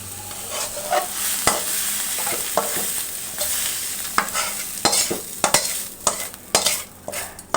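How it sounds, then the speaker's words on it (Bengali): Bitter gourd frying in a pan is stirred with a utensil, producing close, irregular scraping strokes over a continuous hissing sizzle, with no speech. "তো আমার করলা ভাজি প্রায় হয়ে গেছে, নেড়ে চেড়ে নিচ্ছি।"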